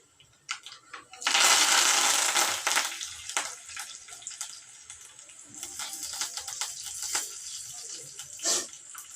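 Soaked lentils are washed in water, with a burst of running water, then sloshing, rinsing and scattered clinks and splashes close by, gradually quieter.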